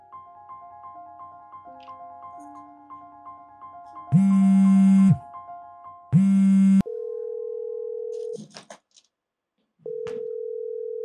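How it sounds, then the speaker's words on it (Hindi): Repeated ringback tones on an unanswered phone call in a Hindi family drama. Soft beeping gives way to two loud buzzing bursts, then a steady electronic tone that cuts out and returns, with no one answering. "एक बार मैं जिया जी को और कॉल लगा के देख लेता हूँ"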